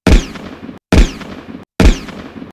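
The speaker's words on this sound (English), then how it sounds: "Before she could respond, gunshots shattered the silence." Three loud gunshots in an audio drama, each a sharp booming blast with a short decaying tail, evenly spaced and separated by brief silences.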